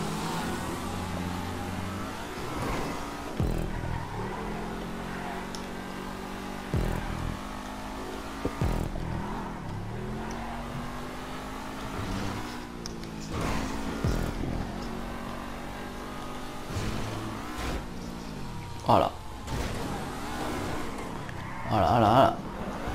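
Cars race in the game GTA V, their engines droning and shifting pitch continuously with occasional revs and bursts of impact, while players talk over the action throughout.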